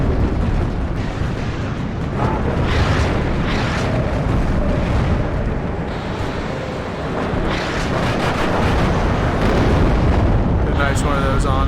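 Heavy bombs from an F4 bomber detonate in the WARNO real-time strategy game, a dense run of rumbling booms and blasts rolling one after another at steady loudness across the whole stretch.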